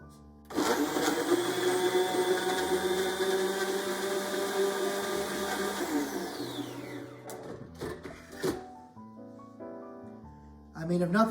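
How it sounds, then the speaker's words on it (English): A blender whirs steadily for about six seconds, blending Oreos, Nutella and milk into a milkshake, then winds down and stops, leaving clinks and handling noises. "Now we're going to put the top on this blender and mix it up."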